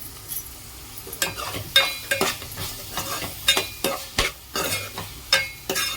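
Coriander powder and garam masala being stirred into a curry in a sizzling pan: a spoon scrapes in repeated close strokes over a steady frying hiss, with no talking.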